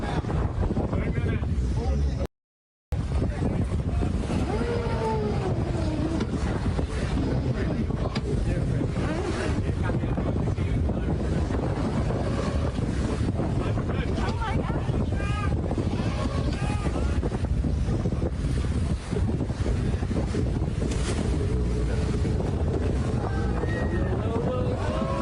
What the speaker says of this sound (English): A group of people was out on a sailing trip